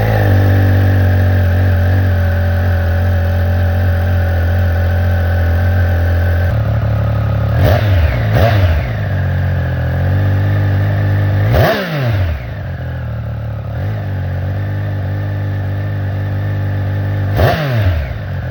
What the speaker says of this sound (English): get some sound footage of the stock exhaust